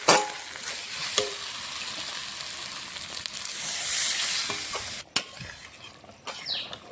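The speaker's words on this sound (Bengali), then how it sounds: "কষানো হয়ে গেছে, নেড়ে এখন জল দিয়ে দেবো।" Fish curry with potatoes stirred and frying in a pan, a steady sizzle with scattered scraping clicks of a spoon, close and moderately loud, no talking.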